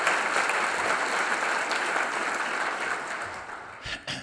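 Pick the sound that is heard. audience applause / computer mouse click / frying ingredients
audience applause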